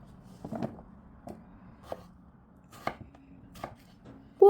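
A knife dices potatoes into cubes on a board in a home kitchen. It gives a handful of sharp, irregular chops, close and distinct, with a louder thump at the very end.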